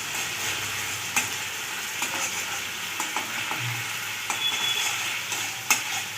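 Ginger-garlic paste fries in oil in a pan for a mushroom masala, a steady sizzle running throughout, broken by occasional sharp clicks of a spoon stirring against the pan.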